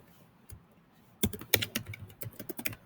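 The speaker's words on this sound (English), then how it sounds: "So I'll type in cartoon bubble." Fingers tap on a computer keyboard, starting with a lone keystroke and then a quick burst of close, crisp clicks in uneven rhythm.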